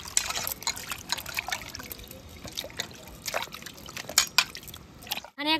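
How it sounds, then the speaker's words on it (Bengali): Peeled raw mangoes being washed in water, heard as close splashing, trickling and dripping with irregular sloshes, ending in a brief louder rustle. "এবারে জলের মধ্যে দিয়ে দেব। ভালো করে এইভাবে ধুয়ে নেব।"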